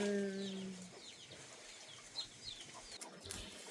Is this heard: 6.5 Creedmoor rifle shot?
no